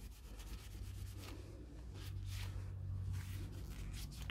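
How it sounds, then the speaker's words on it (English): A cloth soaked in isopropyl alcohol rubbed steadily back and forth over a surface, a continuous close scrubbing swish with rhythmic strokes and no talking. "So I'm just giving that a good rub on both sides"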